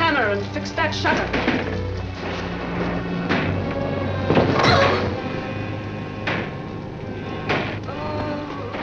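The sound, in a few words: loose window shutter banging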